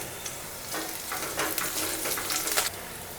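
Garlic and curry leaves fry in hot oil for a drumstick thokku, a loud close sizzle that flares up as the leaves hit the pan and crackles steadily throughout.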